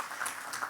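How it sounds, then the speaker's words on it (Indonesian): A church congregation applauds together during a Sunday service, giving a short burst of steady, fairly close clapping with no voices over it. "Boleh tepuk tangan buat Tuhan kita Yesus Kristus."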